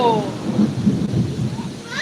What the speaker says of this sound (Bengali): বাইরে এত মেঘ ডাকছে